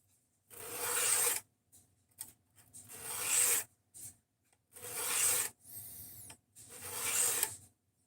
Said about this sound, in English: so here we are with the freehand sharpening